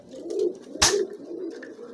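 A pigeon being fed herbal tonic pills coos softly in low, murmuring rolls through the stretch, with a brief sharp rustle or flap near the middle.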